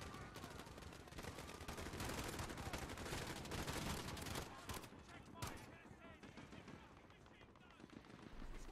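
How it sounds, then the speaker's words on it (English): Sustained gunfire from the Call of Duty Modern Warfare campaign, with rapid automatic bursts packed densely through the first half before easing, loud and continuous, with voices talking over parts of it. "Shots fired."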